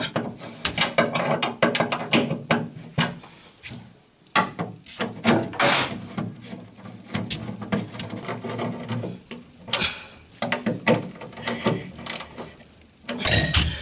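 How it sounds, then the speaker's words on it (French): A 12 mm ratchet wrench clicks in repeated bursts while tightening a nut and washer that mount an accelerator pedal, close and fairly loud, with short pauses between strokes and no talking. "je donne 3 coups de clé de 12 et ma pédale d'accélérateur sera installée"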